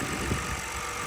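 A rebuilt, previously wrecked BMW E92 328xi idles, heard from outside the car as a short, steady, even engine hum.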